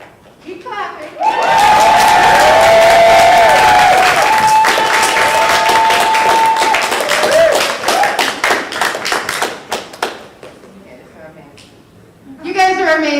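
A poetry slam crowd at CONvergence 2022 bursts into loud, steady clapping and cheering that holds for several seconds, then fades, while a voice talks over the applause.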